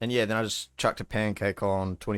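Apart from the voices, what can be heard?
No everyday noise stands out behind the speech.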